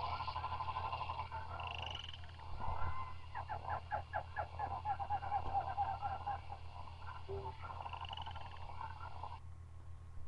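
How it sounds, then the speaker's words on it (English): Jungle rainforest ambience with frogs croaking in rapid rippling trains, other calls and bird-like chirps over a steady low hum, moderately loud throughout. "So here's some jungle rainforest sound effects."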